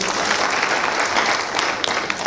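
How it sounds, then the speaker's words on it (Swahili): A crowd applauds at a graduation ceremony, with dense, sustained clapping that stays loud and even for a couple of seconds. "tupige makofi"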